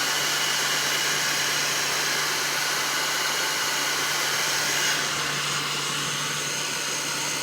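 Heat gun blowing hot air to shrink tubing onto a wire during an exercise bike tension adjustment repair, a loud continuous airy roar with a steady low hum, holding level the whole time.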